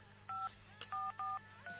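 A telephone emits quiet electronic dialing beeps: four short tones in quick succession against a faint background hum, with no voices.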